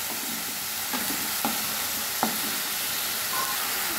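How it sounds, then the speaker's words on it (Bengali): Ground spice paste with tomato sautéing in oil in a pan, giving a continuous close frying hiss broken by a few sharp scrapes and clacks of a spatula stirring at uneven intervals. "এবারে বাটা মশলাটা দিয়ে খানিকটা সময় আমি কষিয়ে নেব, 3-4 মিনিট মতো।"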